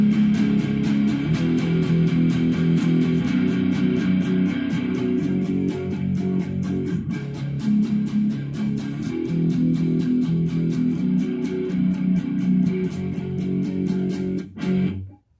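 A distorted electric rhythm guitar repeats simple steady downstrums on the ending of a song, loud and close, before cutting off abruptly at the end.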